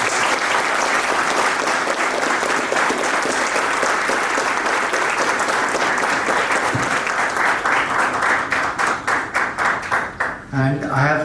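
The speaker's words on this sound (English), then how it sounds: "So there can be a big round of applause for all of them." A big round of applause from the audience at a Seshadripuram College NAAC event, loud sustained clapping from a crowd that thins into scattered individual claps near the end.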